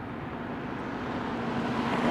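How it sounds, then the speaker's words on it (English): An airplane passes overhead near Playa del Rey, Los Angeles, heard as a steady, broad, distant roar that swells gradually louder over the couple of seconds. "We got one more airplane."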